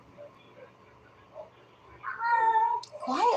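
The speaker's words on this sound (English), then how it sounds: "She's like, but I'm a Siamese. I'm supposed to meow." A Siamese cat meows loudly indoors, giving a drawn-out, wavering cry followed by a sharper second call, preceded by quiet room noise.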